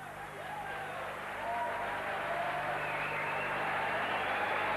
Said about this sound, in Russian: Публика аплодирует победителю Мишель